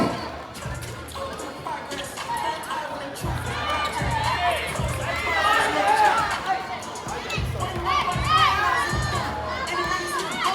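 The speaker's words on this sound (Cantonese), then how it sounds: "我哋一齊俾啲掌聲我哋嘅小球員" Crowd at a youth U12 three-on-three basketball bronze-medal game in Macau cheers and shouts steadily, with children's voices and a few dull thumps throughout.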